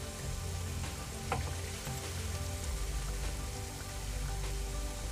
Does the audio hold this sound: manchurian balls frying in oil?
yes